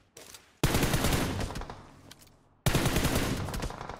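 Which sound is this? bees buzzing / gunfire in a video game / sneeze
gunfire in a video game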